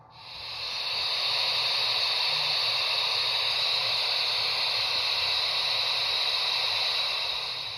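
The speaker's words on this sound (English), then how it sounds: "number 4 is a steam release." A steady loud hiss of steam release from a Bachmann Spectrum HO scale 2-8-0 Consolidation DCC sound module fades in and holds for several seconds, even and unbroken, like an electronic sound effect.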